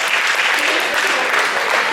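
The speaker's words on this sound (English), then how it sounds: "Give them all a big round of applause" A short, dense burst of steady clapping from an audience at a high school post-prom show, continuous and fairly loud throughout.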